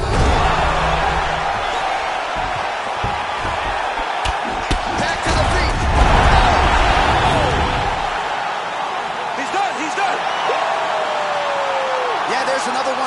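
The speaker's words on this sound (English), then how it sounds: "Crowd absolutely loving it" A crowd at an MMA fight roars and cheers continuously at the end of a bout, loud and sustained, with a commentator's voice running over the noise.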